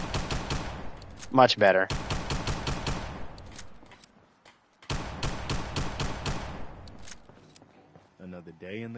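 Pistol gunfire in the video game Fallout 4 comes as two bursts of rapid shots, each a quick string of sharp cracks, separated by a short lull, with someone speaking briefly at the end.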